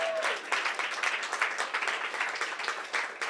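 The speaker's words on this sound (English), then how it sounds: "Clap again." Steady audience clapping fills a hackathon finalist presentation room, dense and continuous throughout, with a few scattered voices underneath.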